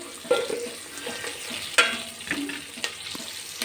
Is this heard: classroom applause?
no